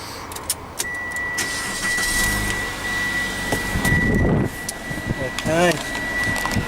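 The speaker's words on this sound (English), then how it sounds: "I'm just going to sit in the vehicle now and start the car up for you" A car engine is cranked and started from the driver's seat, with cabin clicks and a chime tone, then a brief starter whir that catches into a low idle, moderately loud and close.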